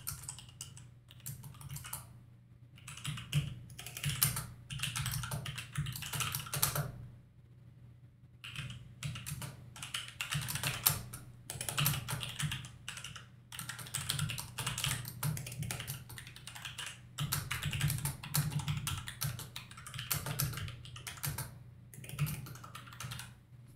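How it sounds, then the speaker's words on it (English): Someone types a prompt on a computer keyboard, a close, steady patter of key taps in bursts with short pauses, alone and without talk. "So you can just type your prompt in here"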